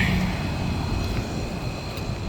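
A 2000 Comfortmaker Soft Sound CHP heat pump running in cool mode, a steady close whooshing fan and compressor hum with faint tonal whine, unchanging throughout.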